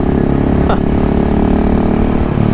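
Supermoto motorcycle on a twisty road, engine droning loud and close under acceleration with steady throttle roar and wind rush, no talking.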